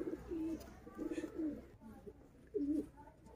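Sialkoti Sheikha pigeons coo nearby in soft, throaty bursts, three short runs with pauses between, over a quiet background.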